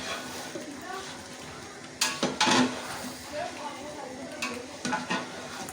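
Spoon stirring chicken meat for degi korma in a cooking pot, giving scraping, clinking strokes in short bursts over a steady background hiss, with some louder scrapes midway and near the end.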